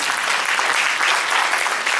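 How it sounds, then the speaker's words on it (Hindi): Audience applause at the Rajasthan Karmveer Award 2024 ceremony, a dense, loud, continuous wash of clapping from a large crowd filling the whole short stretch without pause. "प्रतिभाओं के लिए तालियां दो बजती रहेंगी।"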